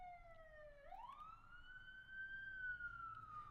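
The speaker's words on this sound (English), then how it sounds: "It's hard to say with sirens these days." An emergency vehicle siren wails outside, faint and distant, sliding down and then sweeping up into a long, drawn-out tone.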